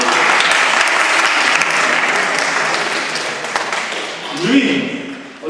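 A church youth gathering bursts into loud applause, the clapping crowd gradually fading as a voice begins talking near the end.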